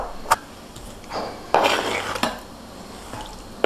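A kitchen knife finely chops avocado and other guacamole ingredients on a cutting board, giving a few close, irregular knocks and scrapes with a clattery edge and no talking.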